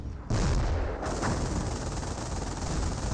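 MG42 machine gun fire in the World War II strategy game Company of Heroes, a dense continuous roar of rapid gunfire and battle noise filling the whole stretch, loud and without pause.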